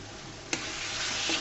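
Brinjal pickle being stirred in a pan, a steady broadband frying hiss with a single sharp spoon scrape early on and a faint knock near the end, no voices.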